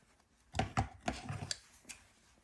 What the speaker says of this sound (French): il faut couper le tissu du dessus